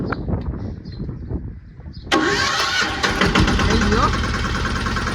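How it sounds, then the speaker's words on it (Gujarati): A homemade farm vehicle (sagado) engine cranks and catches about two seconds in, then runs loudly and roughly close by. Voices talk over the low rumble beforehand. "એક આઈટમ સગાડો ચાલુ કરી દીધો"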